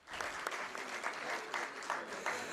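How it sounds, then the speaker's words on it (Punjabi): Audience applause at an international Punjabi conference during a shield presentation, a fairly faint, steady patter of many hands clapping with a few sharper claps standing out. "ਤਾੜੀਆਂ ਮਾਰੋ ਜੀ।"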